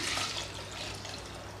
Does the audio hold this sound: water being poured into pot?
yes